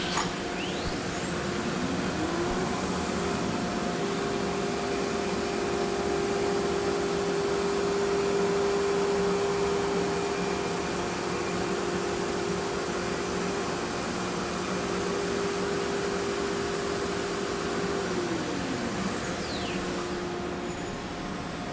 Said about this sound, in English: We'll use the clicker to start the machine, which will etch our cut line into the wasteboard.